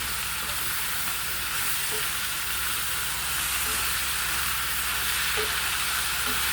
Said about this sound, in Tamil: இப்போ நான் இந்த 4 தக்காளி அறுத்து வச்சதை போடுறேன்